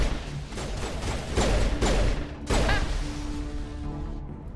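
Game gunfire in Mass Effect 1 Legendary Edition, heard as several heavy, booming bursts with crashes, spread across dense combat noise.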